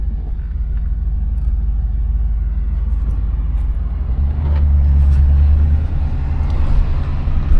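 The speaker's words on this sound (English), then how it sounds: "Let this truck go by first." A truck drives past on a road, its deep rumble building to a loud peak midway and then easing off over steady low traffic noise.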